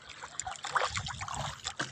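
Waves slapping and splashing against the hull of a small fishing boat on a choppy sea, a close, continuous wash of sloshing water with irregular splashes and no voices.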